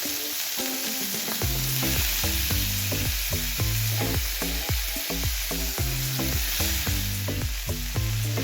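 Chicken sizzles steadily in a hot pan while being brushed with a thyme bundle, a loud continuous frying hiss with rhythmic, repeated brushing and scraping strokes close up.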